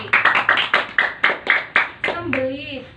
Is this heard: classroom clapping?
yes